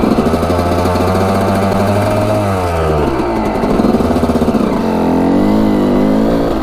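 Suzuki RM125 two-stroke dirt bike engine running after being rebuilt, a close, loud buzzing rasp that rises and falls through several revs, with no talk.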